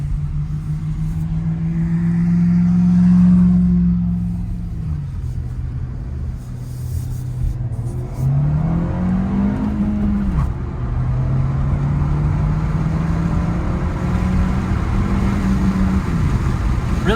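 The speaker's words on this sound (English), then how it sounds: "Nice quick throttle response in the bottom of first gear." A 2020 VW Jetta R-Line with a 1.4-litre turbo and six-speed manual pulls away hard in first gear, its engine drone rising in pitch, dipping, then climbing again, heard from inside the cabin with steady road rumble.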